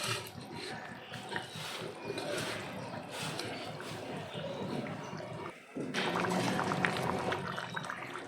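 Fish pieces go into a pot of boiling curry gravy during home cooking, giving a steady wet bubbling and sizzling wash with a brief drop near the end before the simmer returns louder; no speech over it.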